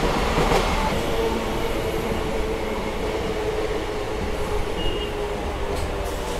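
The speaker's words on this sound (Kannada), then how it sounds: "ಇದು ನಮ್ಮ ಟ್ರೈನ್ ಸದ್ಯಕ್ಕೆ ತಲುಪಿದೆ ದೊಡ್ಡಜಲ ಸ್ಟೇಷನ್ಗೆ." A Bengaluru Blue Line airport metro train pulls into Doddajala station, a loud, continuous rumble of wheels on rails with rattling carriages and a faint high squeal near the end.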